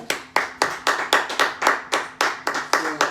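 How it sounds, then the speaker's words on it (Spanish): Congregation in a Spanish-language church service clapping in unison, a steady rhythmic beat of sharp, loud claps at about three per second, with no talk over it. "denle un aplauso a Cristo."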